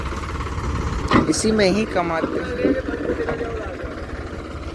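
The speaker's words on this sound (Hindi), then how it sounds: "ट्रैक्टर देखो कितना बड़ा है, ठीक है, और ट्रॉली देखो कितनी सी" A large tractor engine rumbles steadily with a small trolley hitched behind it, a continuous low drone running under someone speaking Hindi nearby.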